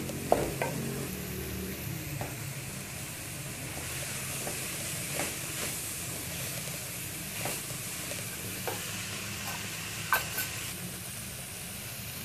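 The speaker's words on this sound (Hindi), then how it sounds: "मिक्स करेंगे अच्छे तरीके से मिक्स कर लेंगे साथ साथ इसे मैश करेंगे" Vegetable cutlet mixture with cumin powder being mixed and mashed in a pan, a soft continuous hiss under irregular scraping and pressing strokes, fairly quiet and close with no talk.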